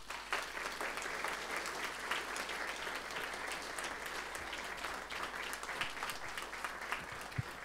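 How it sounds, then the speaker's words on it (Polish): A hall audience claps steadily throughout at a Polish accordion festival in a culture centre, dense sustained applause with no let-up and no voices on top. "na początek proszę o wielkie brawa"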